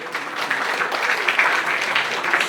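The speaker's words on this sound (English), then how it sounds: "Can you give yourselves a round of applause" Audience applause at a science-and-beers talk event, a steady dense wash of clapping that holds evenly through the whole stretch with no voices on top.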